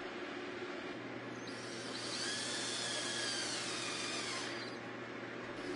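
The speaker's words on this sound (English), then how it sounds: "Using screws provided, screw down through the bottom RSB into the rail." A power drill whirs steadily as screws are driven down through the bottom rail into a Trex deck railing, one continuous close whine that rises slightly in pitch near the middle, alone without talk.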